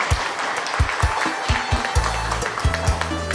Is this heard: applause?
yes